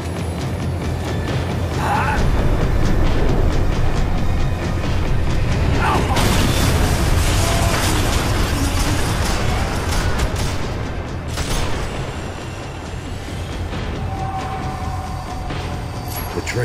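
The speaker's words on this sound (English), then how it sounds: "The tram was slowing down," A tram in the video game Max Payne 3 gives a heavy, continuous rumble with booming mechanical clatter and creaks. The noise swells loudly through the middle, then eases and thins as the tram slows toward the end.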